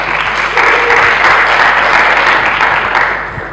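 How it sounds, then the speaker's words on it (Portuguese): Loud, dense audience applause at an entrepreneurship conference in Lisbon, a sustained crowd clapping that holds steady for a few seconds before tapering off. "Mais uma salva de palmas para o Bernardo."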